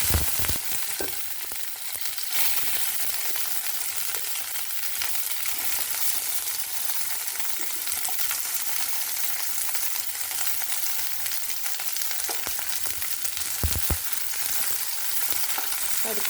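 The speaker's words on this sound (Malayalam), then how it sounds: "നമുക്ക് പാൻ അടുപ്പത്ത് വെച്ച് വെണ്ടക്ക വഴറ്റിയെടുക്കാം" Okra sautéing in a pan on a stove, giving a steady, dense hiss of frying that runs throughout, close and fairly loud, with a few faint scrapes and clinks of stirring and no talking.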